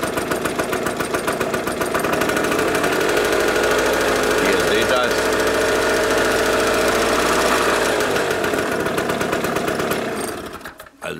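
Piaggio TPH 125 two-stroke scooter engine running close and loud with a rattly, buzzing note, held at raised revs for about ten seconds before dropping off abruptly.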